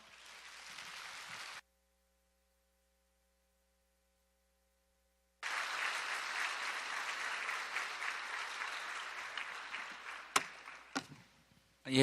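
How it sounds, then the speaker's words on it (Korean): Church audience applause welcoming the pastor at an ordination training class, a brief burst of clapping that cuts out into silence, then a longer round of steady clapping that tapers off with a few loud knocks near the end. "우리 담임 목사님 나오실 때 큰 박수로 환영하겠습니다."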